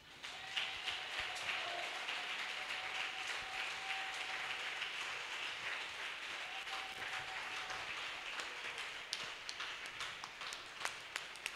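Church congregation applauding and cheering for Jesus, a sustained wash of clapping and scattered shouts at moderate distance, with a few sharper claps toward the end.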